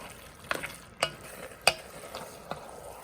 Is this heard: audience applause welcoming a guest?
no